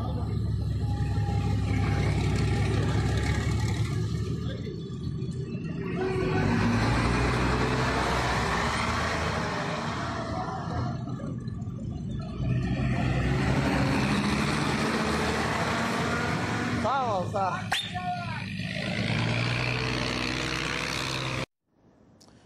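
Buses rolling along Saveh road during a drivers' strike, a loud continuous engine and tyre roar that swells and passes in waves for about twenty seconds, with a brief higher whine near the end before cutting off.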